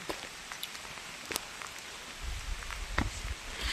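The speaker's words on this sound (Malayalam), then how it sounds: "നല്ല മഴ കേട്ടോ." Rain falls in an outdoor valley setting with steady broadband hiss, a few brief louder drop impacts, and a low rumble rising in the second half; no talking.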